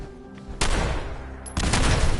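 Two loud, close blasts of a car exploding in Fallout 4, each a sharp broadband burst that rumbles and crackles on for about a second, the second landing about a second after the first.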